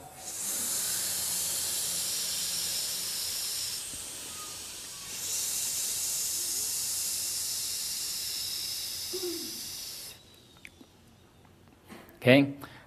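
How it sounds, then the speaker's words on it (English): Deep breathing in a Chi Kung exercise: a long, steady airy hiss of inhaling, a slight dip, then a sustained exhale. The breath fades to quiet near the end, followed by a brief louder rustle. "Now you inhale. And exhale with the lungs out."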